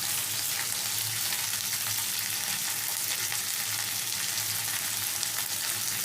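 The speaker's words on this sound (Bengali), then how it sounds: "ভেন্ডিটা লাল করে ভেজে নেব।" Okra fries in a pan with a steady, close, even sizzle that goes on without a break and no voices.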